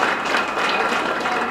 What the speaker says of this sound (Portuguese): Uma salva de palmas, de boas-vindas a todos os nossos companheiros e companheiras.